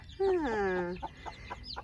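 A hen's drawn-out, wavering cluck rises and falls, followed by a few short, softer clucks spaced apart, fairly close.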